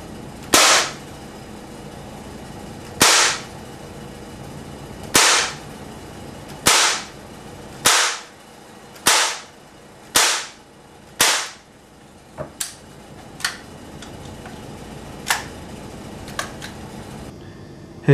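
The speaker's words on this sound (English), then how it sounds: "I'm going to fire 8 shots at a target downrange about 25 feet away" Umarex Desert Eagle CO2 air pistol firing at a target about 25 feet away, eight sharp pops evenly spaced, close, followed by smaller clicks.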